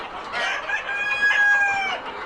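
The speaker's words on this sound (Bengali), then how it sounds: "আরাফাত মুরুখ নিয়ে আসতেছে" A rooster on a farm clucks and breaks into a crow, with strained, harmonic calls carrying steadily at close range and no talk over them.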